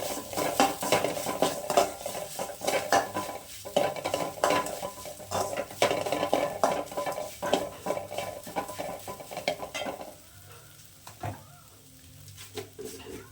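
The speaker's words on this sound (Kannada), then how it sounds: "ಇವಾಗ ಇದು ಹಸಿ ಸ್ಮೆಲ್ ಹೋಗೋವರೆಗೂ ಚೆನ್ನಾಗಿ ಫ್ರೈ ಮಾಡ್ಕೊಳ್ತೀನಿ" Chickpea usli masala fries in a pan as a utensil scrapes and stirs it, giving repeated clinks and scrapes over a steady sizzle, close and fairly loud, with a quieter stretch near the end.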